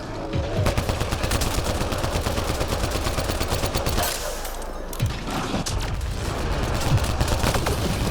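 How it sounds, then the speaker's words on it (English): Heavy, continuous automatic gunfire from a firefight in Mass Effect Andromeda, dense rapid shots with a deeper thud partway through, loud and sustained across the whole stretch. "Heavy fire!"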